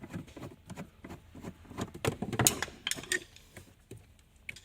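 Screw being removed from the kick panel area of a Nissan Skyline V35, a run of small clicking, ticking mechanical taps and scrapes close by, irregular and fairly quiet, with no talking.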